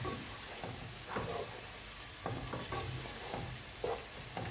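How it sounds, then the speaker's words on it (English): Okra masala curry fries in a pan with a constant hissing sizzle, broken by several scraping stirs of a spoon against the pan, heard up close with no one speaking. "Now I'm going to let that fry for a bit."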